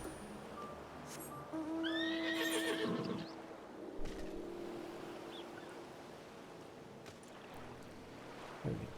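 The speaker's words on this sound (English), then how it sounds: "Come with me, six-legged horsey of awesome." A horse mount in the video game Final Fantasy XIV, a six-legged horse, gives a clear, loud whinny with clip-clop hooves, over a soft wash of water or ocean ambience, with no talking.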